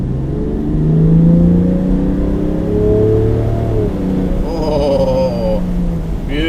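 A Land Rover Defender 90 with a straight-six engine accelerates, its engine note rising through gears in smooth climbing sweeps, close and loud, with a brief higher whir near the end.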